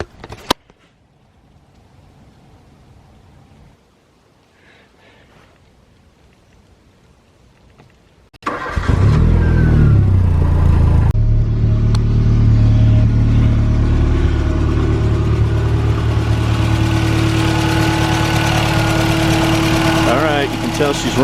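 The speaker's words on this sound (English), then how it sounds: "Next thing is to charge up the battery and see if we can get this thing started" A 1985 VW Scirocco Mk2 with a rebuilt CIS fuel distributor is cranked after a quiet stretch and catches, settling into a loud, steady idle with a cooling fan whirring, close by and alone.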